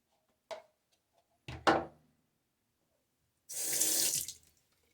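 A tap runs for rinsing during a wet shave, with a brief splash and a short loud burst of water before a full second-long gush from the faucet, close, between quiet gaps, no talking.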